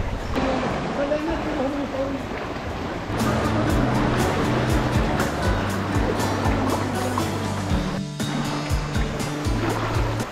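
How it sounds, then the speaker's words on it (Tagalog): Ocean waves rumble and wash continuously nearby at Secret Beach in El Nido, Palawan, a steady surf roar, with a person talking over it and a brief motor-like hum. "sa labas malakas yung alon"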